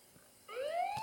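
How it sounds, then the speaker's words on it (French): A police car siren in Roblox RoCitizen switches on abruptly and holds a rising, wailing tone, loud and clear with no talking over it. "les sirènes"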